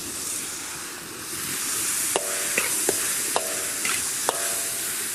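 Peas and tomatoes frying in ghee in a pan, with a constant close sizzle and hiss broken by four or five sharp metallic scrapes and clinks of a spoon stirring against the pan.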